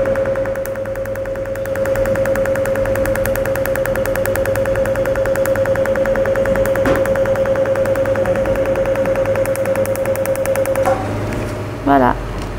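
A Cutera Enlighten laser device fires pulses in a steady, rapid train over a constant tone, with a brief change near the end; the repeated clicks run loud and continuous for most of the clip.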